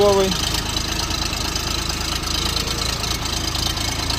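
A three-cylinder, rear-wheel-drive Xingtai 240 tractor engine idles close by with a steady, rhythmic knocking chug that stays even from start to finish.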